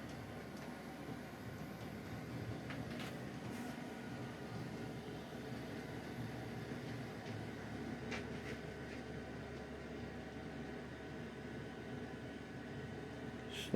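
A Dapol Class 59 model train locomotive runs steadily along a layout track, producing a faint, continuous low whirring rumble with occasional soft clicks, no voices.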